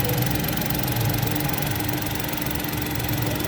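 A 2024 Toyota Raize engine idles steadily up close, a constant even hum with faint mechanical vibration and no talking.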